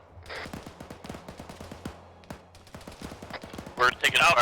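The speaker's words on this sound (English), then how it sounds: "All I hear are gunshots." Rapid gunfire crackles through a military video game training session, with many sharp shots in quick irregular bursts, some distant and some near, with voices talking over the shooting.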